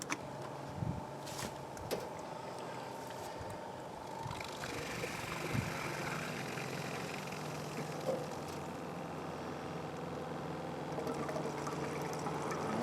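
An RV fresh water transfer pump runs steadily, pushing out a stream of water with a soft continuous hiss and hum, close by and fairly quiet, after a few clicks as it is plugged in.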